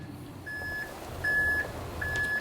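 A reversing concrete truck sounds three evenly spaced electronic beeps, steady and fairly loud, over a low engine rumble, with no talking.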